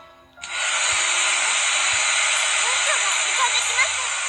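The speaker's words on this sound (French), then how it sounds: "c'est le sèche-cheveux d'abord" A hair dryer in a video game switches on abruptly and blows with a steady, loud broadband whoosh, with faint voice-like murmurs underneath.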